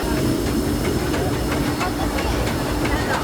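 The Disneyland Railroad steam train rolls along its track in a dense, loud rumble with faint steam hiss and regular wheel clicks on the rails.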